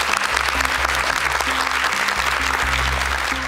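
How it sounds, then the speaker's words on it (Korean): Studio audience applauding on a Korean TV quiz show, steady broadband clapping filling the room throughout, with a low sustained musical tone underneath. "박수 한번 부탁드리겠습니다"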